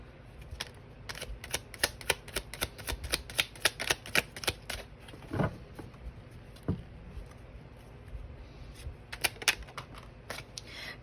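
A small deck of cards being shuffled, the hard-to-handle deck giving rapid bursts of crisp riffling clicks and flutters with brief pauses between, close and moderately loud with no voices.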